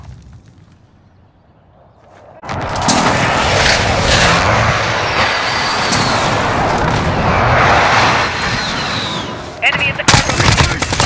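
Airstrike explosions in Call of Duty: Modern Warfare: after a quiet opening, a loud sustained roar of blasts and gunfire-like crackling fills the scene, with a sharp burst of booms near the end.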